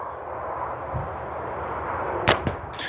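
A shot from a Raiden slingshot catapult made by Prime Fork strikes its target: two sharp, bright snaps land close together near the end, over steady outdoor hiss.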